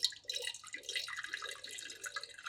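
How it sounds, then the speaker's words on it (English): Water runs steadily into a container being filled for a craft project, a continuous splashing trickle close by with no voices. "what I want to do is fill it with water"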